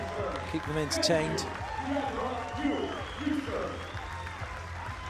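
Applause and cheering rise from the crowd at a beach volleyball tournament while an announcer speaks over them, the clapping steady and broad throughout.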